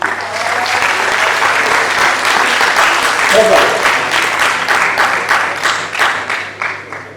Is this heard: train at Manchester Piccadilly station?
no